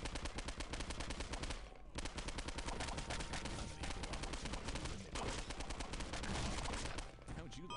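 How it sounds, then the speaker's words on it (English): Machine gun firing in the video game Postal 2, dense rapid automatic bursts nearly continuous with brief pauses, loud and close, layered over game sounds. "Where's the machine gun?"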